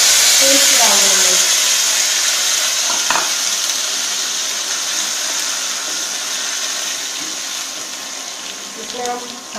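Cumin seeds hit hot oil with a loud, steady hiss of frying that slowly fades over several seconds, with a few brief knocks and stirring clatters partway through.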